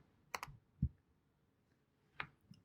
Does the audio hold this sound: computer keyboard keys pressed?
yes